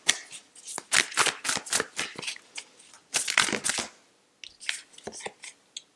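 A tarot card deck being shuffled, with repeated crisp riffling bursts in an uneven rhythm, close and fairly quiet, and short pauses between shuffles.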